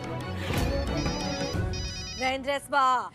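A melodic phone ringtone chimes in repeating bright tones, close and loud, partly under someone speaking.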